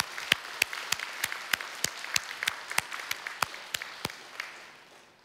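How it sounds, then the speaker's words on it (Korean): Scattered, sharp claps from a church congregation ringing out at a steady, unhurried pace, a dozen or so distinct hits from a small group rather than a roaring crowd. "우리 서로를 위해서 한번 박수하고 우리 하나님께 우리 박수로 영광 올려드립니다."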